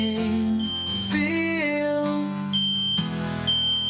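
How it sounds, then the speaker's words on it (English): A building fire alarm drones loudly and continuously with a high-pitched tone, mixed with a steady tonal hum and a voice speaking briefly over it. "You hear an incredibly annoying high-pitched droning sound. That is the fire alarm."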